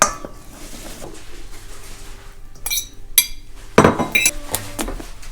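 Cold pasta salad being mixed in a bowl, with scattered clinks and scrapes of a utensil against the dish, a few sharper knocks in the middle and a denser burst of clattering near the end.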